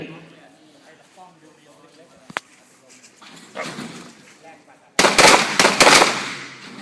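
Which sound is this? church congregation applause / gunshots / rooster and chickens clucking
gunshots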